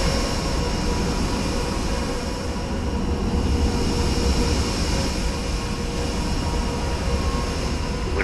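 Steady, loud jet engine roar of an aircraft taking off from runway 31 at Winnipeg in a flight simulator, a dense continuous rumble with a high whine that holds evenly throughout with no voices.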